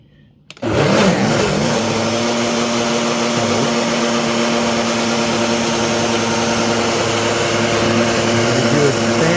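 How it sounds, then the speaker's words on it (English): Kitchen blender pureeing lentil soup, starting abruptly after a brief quiet moment and then running loud and steady with a constant motor whine for the rest of the clip. "Okay, so watch this blender."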